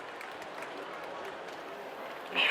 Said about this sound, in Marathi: टाळ्या वाजवून आपण त्यांचे स्वागत करूया कार्यक्रमामध्ये.